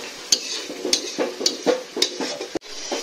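Tomato paste is stirred and fried in a pan on a gas stove, with rhythmic scraping strokes of a utensil against the pan over a soft steady sizzle, close by and with no talking.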